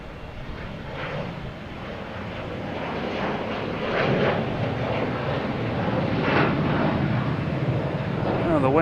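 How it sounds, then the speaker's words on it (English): Steady broadband jet roar from an American Airlines Embraer E175 at an airport, growing gradually louder, with some background voices in the clip. "And American Airlines E175, heading to Reagan."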